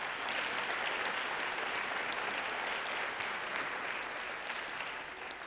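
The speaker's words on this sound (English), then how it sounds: "Another round of applause." Another round of applause at a high school underclassmen awards ceremony, a continuous even roar of many hands clapping from a large audience, sounding somewhat distant and steady, tapering only slightly at the close.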